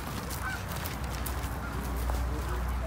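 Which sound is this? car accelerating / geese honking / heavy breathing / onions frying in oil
geese honking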